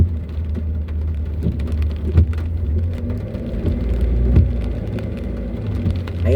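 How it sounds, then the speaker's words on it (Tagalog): Steady rain and road noise inside a car driving through a typhoon-hit area near Alabang Hills, a dense continuous wash with a low rumble underneath, occasional thumps, and no talking. "Medyo mahina ulan dito, pero yung pag alis namin kanina doon sa garahe ko, malakas pa rin guys."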